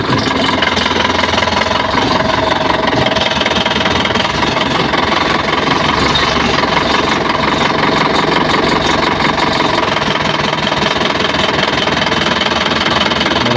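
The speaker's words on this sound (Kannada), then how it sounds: "ಫುಲ್ ಪಿಕಪ್ ಐತಿ ಗಾಡಿ." A vehicle engine runs steadily and loudly throughout, a continuous rough mechanical drone with a knocking, idling quality and no talk over it.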